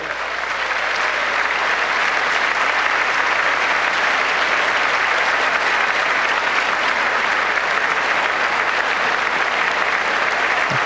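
A large audience at the State of the Union keeps up loud, sustained applause, a dense, even roar of clapping that holds steady throughout.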